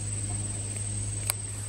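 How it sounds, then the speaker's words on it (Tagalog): Crickets chirping in the Philippine countryside, a continuous high, faint trill over a low steady hum of background noise, with no voices. "Naririnig nyo ba yung mga kuliglig?"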